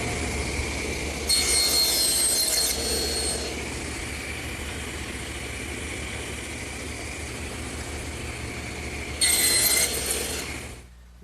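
Table saw with a heavy cast tenoning jig riding in the miter slot cutting a tenon for a butler's table: a steady motor drone with two louder, harsher cutting passes several seconds apart.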